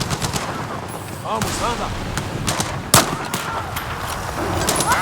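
Rapid automatic gunfire and sharp gunshots in a Battlefield 4 battle, bursts rattling steadily through the clip with a loud close shot near the middle, while players talk over it.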